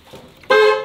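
A Renault Mégane fitted with a full AST roll cage sounds its horn: one loud, steady, close blast that starts abruptly after a few faint rustles and holds to the end.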